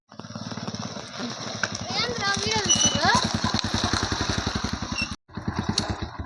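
A motorcycle engine runs close by with a rapid, even thumping putter, steady throughout apart from a brief cut near the end, while people talk over it.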